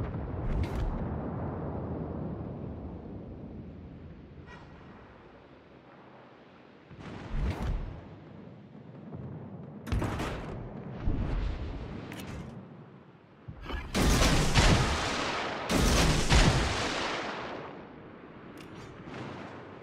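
Heavy naval gunfire from the destroyer Fubuki in World of Warships: Legends, with deep rumbling booms and several sharp, loud salvos cracking out in bursts over a continuous low background roar.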